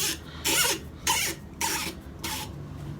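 Four rhythmic, squealing squeaks of a cork being worked out of a red wine bottle, each a short harsh burst with brief pauses between.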